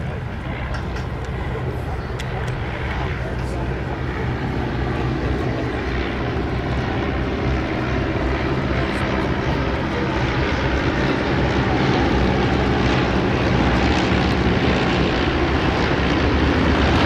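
Vintage propeller aircraft flying past in Vic formation at the Duxford Battle of Britain airshow, a loud continuous engine drone with broad rumbling noise that swells slightly as they pass overhead, steady throughout.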